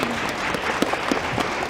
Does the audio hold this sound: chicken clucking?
no